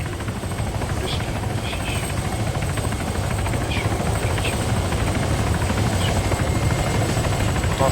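A helicopter in the military video game ArmA 3 makes a loud, continuous rotor drone with a constant thrumming beat that holds steady throughout.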